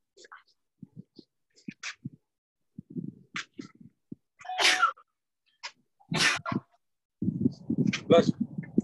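Two sharp, close sneezes burst out a second or so apart in a quiet room during an online boxing training session, surrounded by soft scattered movement sounds.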